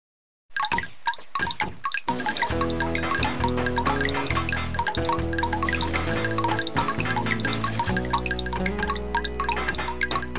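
Water runs and drips from a leak inside a house in the Bob the Builder: Can We Fix It? video game, with steady trickling and dripping mixed under continuous tonal game music.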